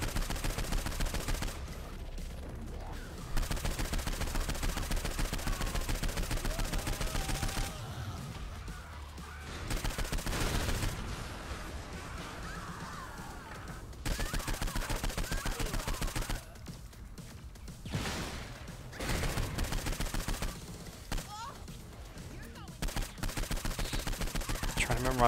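Bursts of gunfire from the video game Saints Row IV crackle in irregular clusters, with dense volleys broken by short pauses and continuing steadily through the whole stretch.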